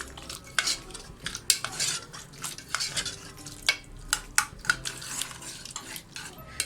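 A spoon scrapes and knocks against a pot while chickpea and potato curry is stirred, with irregular clinks and scrapes close by over a soft, steady background and no talking.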